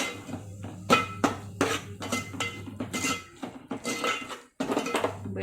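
Mutton and spices stirred in a metal pot, a spoon scraping and clinking against the sides in uneven strokes, close and moderately loud, with a brief pause before the stirring resumes.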